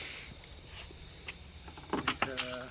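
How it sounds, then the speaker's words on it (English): Keys dropped in a car's engine bay during a coil pack swap on a 2006 Mercedes-Benz E350 4matic with the M272 engine land near the end as a short burst of bright metallic jingles and clinks after a quiet stretch of workshop background. "I just dropped my keys."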